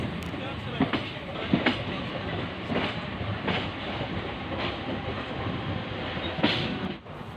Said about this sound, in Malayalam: സൈഡിലൂടെ ഓടിക്കൊണ്ടിരിക്കുന്നതാണ് മെമു ട്രെയിനുകൾ